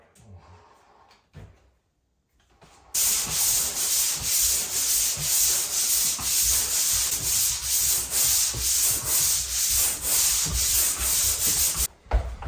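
Steady, loud sanding of a drywall sheetrock patch with 120-grit paper, rhythmic back-and-forth strokes running for about nine seconds after a quiet start, then a brief pause and a resumption.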